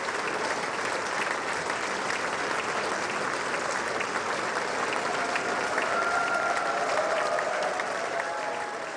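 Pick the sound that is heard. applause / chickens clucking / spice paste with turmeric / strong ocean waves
applause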